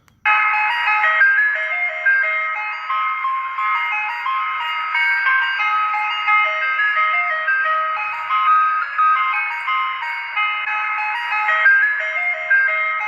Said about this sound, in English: The first one is an ice cream truck sound.